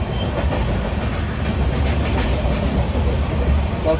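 Steady rumble and rattle of the Howrah–Barbil Jan Shatabdi Express heard from inside a coach while the train runs, with continuous loud wheel clatter and carriage noise throughout.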